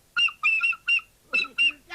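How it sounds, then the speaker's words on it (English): A penny whistle played in short bursts, six bright reedy toots in an uneven rhythm, close and fairly loud, with a faint low voice stirring under the later notes. "Why not play the penny whistle?"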